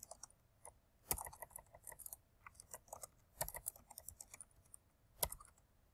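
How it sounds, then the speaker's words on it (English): Typing on a computer keyboard while entering text in AutoCAD, a quiet, irregular series of light key clicks with a few sharper, louder taps, close up and without talk. "hit enter twice, and then type in my text"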